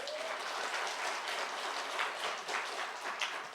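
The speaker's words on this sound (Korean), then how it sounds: "박수 한번 쳐주세요." A church congregation applauds after a choir's harmonized singing during a Sunday service, steady dense clapping filling the room at moderate level throughout without talk.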